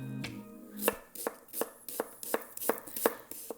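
A knife chops food on a cutting board in a kitchen, about nine crisp, evenly paced knocks close up and alone.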